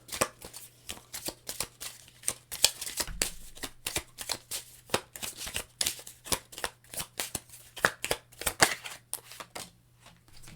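A deck of tarot cards is shuffled close up, with rapid repeated riffles and soft slaps in an irregular rhythm, quiet and alone, under a faint steady hum.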